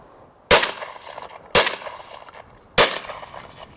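An ATA Venza Fonex shotgun fires Hull Pro 20 cartridges: three loud, sharp blasts spaced about a second apart, each followed by a short ringing tail and quieter clatter of the action cycling.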